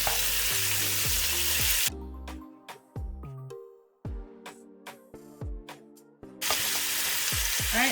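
Steak and vegetables sizzle in a pot, a steady loud frying hiss at the start and end, with clatters, scrapes and stirring knocks in between as the vegetables go back in.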